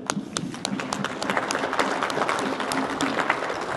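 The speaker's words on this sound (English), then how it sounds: "A big round of applause to these people who put the best program ever together" An audience of industry executives applauds at the opening of the 25th Optica Executive Forum in San Diego: dense, continuous clapping from a large hall crowd, steady and moderately loud, with no speech over it.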